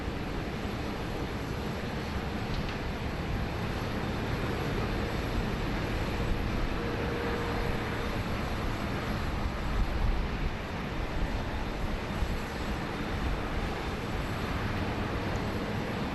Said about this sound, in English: the Air India 7878 Dreamliner, just making their way up taxiway Alpha